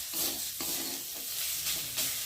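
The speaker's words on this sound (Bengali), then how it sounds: "মশলার সাথে নারকেলটা ভালো করে ভেজে নেব" Grated coconut and fried shrimp sizzle in a pan with spices and garlic, a steady close-up frying hiss broken by a few scraping stirs.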